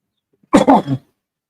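A single close, harsh cough with a throaty clearing sound, brief and loud against silence.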